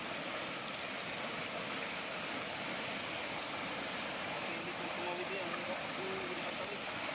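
River water rushes steadily in a broad, unbroken roar, close and constant, with faint voices briefly audible beneath the flow.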